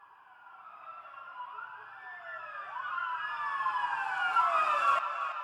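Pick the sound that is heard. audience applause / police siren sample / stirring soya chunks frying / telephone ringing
police siren sample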